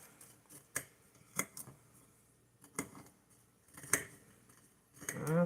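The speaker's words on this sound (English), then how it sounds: "So I'm just going to cut through these bigger chunks of pepper and red and green pepper." Chunks of red and green pepper being cut, heard as a handful of sharp, crisp snips spaced irregularly across the quiet, with a rustling swell near the end.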